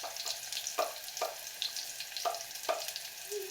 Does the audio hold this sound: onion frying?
yes